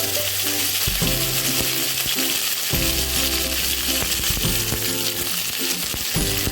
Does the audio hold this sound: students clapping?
no